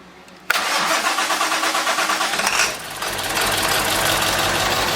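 An old 1946 Ford engine cranks with a rapid rhythmic chugging, then catches and fires into a steady, loud idle, close by.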